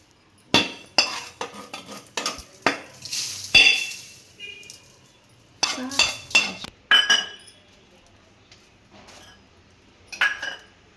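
Roasted fenugreek and peppercorns are moved back into the same vessel with a spoon, giving a series of close metallic clinks and scrapes in irregular bursts separated by short quiet gaps.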